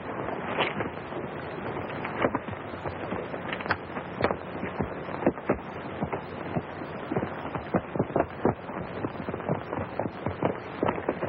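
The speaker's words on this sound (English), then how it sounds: "Sure, it's their horses." Horses' hooves clop steadily in an irregular, busy rhythm across an outdoor scene from a 1935 serial, with a constant hissing noise running underneath.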